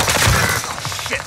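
Rapid gunfire in Call of Duty Vanguard Warzone on Rebirth Island, a dense close burst of shots over a little more than a second, with a voice mixed in.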